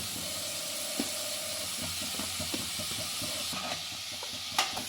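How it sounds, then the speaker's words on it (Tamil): Two onions sautéing in a pan for a hotel-style prawn gravy, giving a steady soft sizzle and hiss with occasional clinks and stirring scrapes close by. "இப்போ இதில் 2 வெங்காயத்தை நல்லா போட்டு 2 வெங்காயத்தை போட்டு நல்லா வதக்கணும்"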